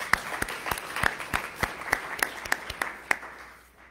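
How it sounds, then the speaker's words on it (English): A small church congregation at an Easter Sunday Mass gives sparse applause, a dozen or so distinct, well-spaced claps at a steady rhythm that thin out and fade by the end, with no talking. "And let's give a round of applause to all of them."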